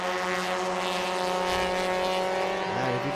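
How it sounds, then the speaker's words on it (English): Modified race car engines at a Thailand Super Series meeting produce a loud, steady, buzzy drone, with a rising pitch shift near the end as a car passes. "if you can hear what I'm hearing right now, it's kind of buzzy. That's one of the sounds coming out from these engines."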